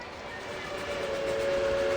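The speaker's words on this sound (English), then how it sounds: "A thick black column of smoke cuts to the dusty sky, rising among the loud whistle. It's the train!" A steam train whistle from the video game Reverse 1999 sounds as a sustained high tone over a rumbling rail background, growing gradually louder.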